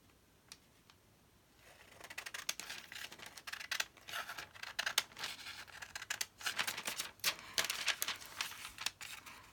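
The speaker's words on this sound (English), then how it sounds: "I'm just going to trim the edges off with the scissors." Crisp snipping and crinkling of printed tracing paper being trimmed with scissors in quick irregular bursts, close by, with no voices.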